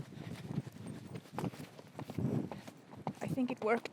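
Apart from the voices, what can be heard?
horse hooves cantering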